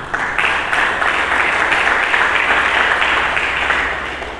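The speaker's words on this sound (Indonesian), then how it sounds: "Hari ini mari kita sambut dengan tepuk tangan." A church congregation claps together in loud, sustained applause that fills the whole stretch and eases slightly toward the end.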